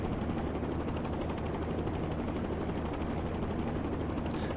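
A helicopter descends in a flight simulator game, its rotor and engine making a loud, steady, continuous drone with a rapid underlying beat, close and unbroken for the whole stretch.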